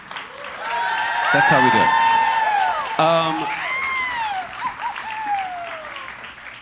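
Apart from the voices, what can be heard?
audience applause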